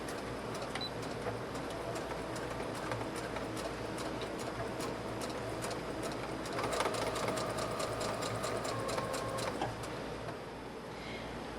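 Sewing machine running slowly along a seam of a colonial costume dress, with a steady stream of faint ticking needle strokes that grows slightly denser and louder toward the end, no voices.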